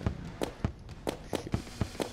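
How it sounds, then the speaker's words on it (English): Scarab bombs in Terraria go off as a rapid string of short popping blasts, about eight in two seconds, close and fairly loud. "Scarab bombs."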